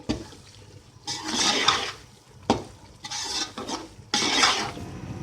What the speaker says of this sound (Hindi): अब इसको खुशबू आने तक अच्छे से भून लेंगे।